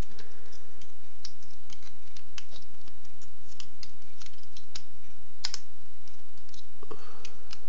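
Plastic Transformers Prime Megatron figure being folded and transformed, its parts giving a steady run of small close clicks and snaps over several seconds with no talking.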